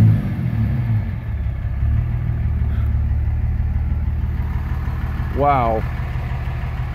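A 2006 Dodge Ram 2500 with a transmission problem drones steadily in neutral, its low engine rumble loud and close throughout while a voice briefly exclaims.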